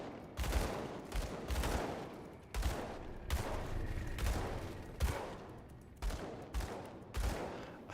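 Gunfire crackles in the action role-playing game Grim Dawn. Repeated loud bursts of shots come in uneven clusters with heavy low thumps, and brief gaps separate the volleys.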